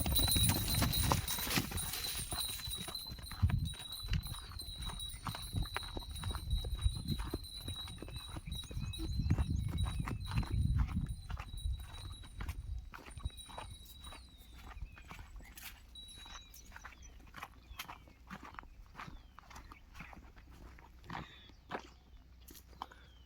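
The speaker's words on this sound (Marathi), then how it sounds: "तुम्हाला बैल जोडी फिरवून दाखवला" Hooves clop steadily on a hard road as a pair of Khillar bullocks walk along, with rumbling background noise that fades halfway through.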